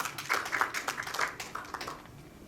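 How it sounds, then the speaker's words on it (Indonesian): An audience claps together at a political campaign rally, a brief burst of dense, fairly loud hand claps lasting a couple of seconds before thinning out. "Tepuk tangan dulu."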